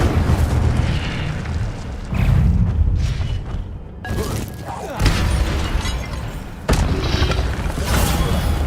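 In a Hogwarts video game, Incendio fire spells and combat magic set off a series of loud fiery bursts and booming whooshes in uneven succession, with voices shouting spell names between the blasts.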